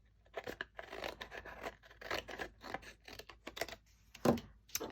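Card paper for a handmade birthday card being cut by hand, a close run of rapid snipping and rustling strokes with a brief sharper crunch near the end, no voices.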